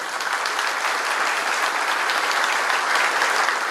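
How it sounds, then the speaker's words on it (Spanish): A crowd at a PRM political rally in Sosúa breaks into loud, steady applause, dense and continuous throughout. "compañero Lupi, para quien pedimos un fuerte aplauso"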